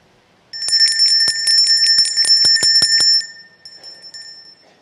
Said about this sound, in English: The power of the bell.